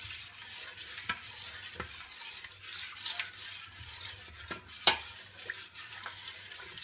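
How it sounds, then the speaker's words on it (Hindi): Thick wheat batter is stirred with a spoon or ladle, giving soft wet swishing and scraping in a quiet, close setting, with one sharp knock midway. "इसको धीरे धीरे चम्मच या करछली की सहायता से निकालें और अच्छी तरह से घोल लें।"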